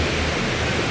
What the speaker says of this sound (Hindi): आप देख सकते हैं कितना खूबसूरत वाटरफॉल है।